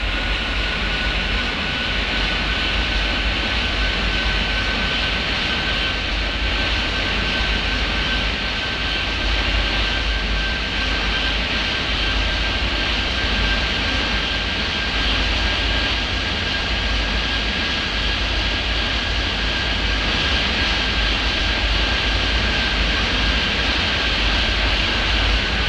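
Steady roar of jet airliner engines during pushback in an air traffic controller video game, a continuous broadband drone with a faint high whine, loud and unbroken throughout.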